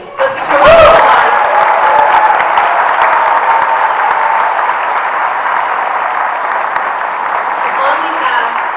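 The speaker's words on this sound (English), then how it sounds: "Let's give a round of applause." Audience applause at a U.S. citizenship naturalization ceremony, a steady, full round of clapping that rises quickly and holds for several seconds, with a brief voice at the start.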